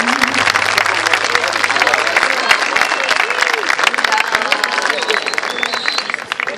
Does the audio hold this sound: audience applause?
yes